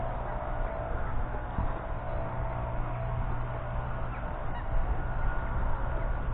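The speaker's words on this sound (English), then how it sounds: "bird life, swans." Several honks from swans sound over a steady outdoor rumble at a fishery lake, with faint wind and water noise throughout.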